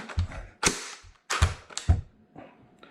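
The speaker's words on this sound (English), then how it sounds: "you push this button down, and boom, barrel comes right out" A Steyr AUG M3 A1 5.56mm rifle having its quick-change barrel released and removed, heard as a few sharp, close metallic clacks and snaps with brief gaps, then a softer sliding rattle.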